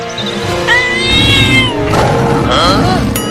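Cartoon cat fighting a lion, with loud meowing and caterwauling cries, snarls and scuffling under music and excited voices throughout.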